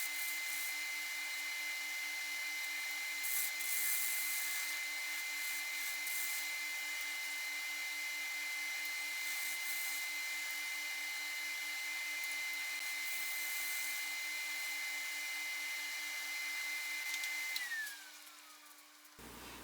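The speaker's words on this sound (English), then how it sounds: "use my round nose scraper" A round nose scraper works the bottom of a spalted, partly rotted hackberry bowl on a wood lathe, giving a steady, faint whirring scrape that runs on evenly before the lathe winds down at the end.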